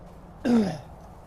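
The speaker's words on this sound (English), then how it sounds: "I didn't want to cough" One short, throaty cough from a person, close and moderately loud, standing alone against a quiet background.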